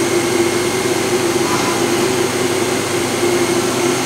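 A Hitachi Seiki HT-20SIII CNC turning center runs at about 2800 RPM, a loud, close, steady mechanical whine and whir with a constant tone, unbroken throughout.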